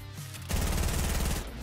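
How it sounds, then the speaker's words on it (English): Sustained rapid gunfire in the video game Fortnite, a dense rattling stream lasting about a second over low game rumble, moderately loud with no voices. "Ah, too many shots hit there."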